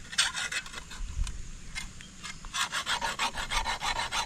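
A metal file rasps back and forth along a blade to sharpen it, close and clear: a few scattered strokes, a short pause, then a steady run of even, rhythmic rubbing strokes.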